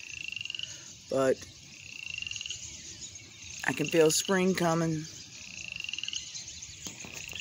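Frog croaking outdoors by a backyard lake on a rainy night, a few short bursts of rhythmic croaks close by over steady rain and insect hiss, with a person talking between them.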